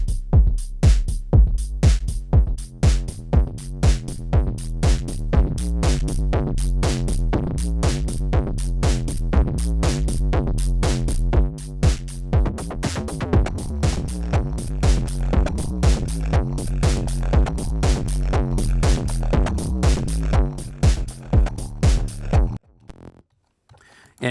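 A gritty synth distorted with the Noisebud Fräs wave-shaping distortion plays fast repeating notes over a driving beat, loud and buzzy throughout, before cutting off at the end.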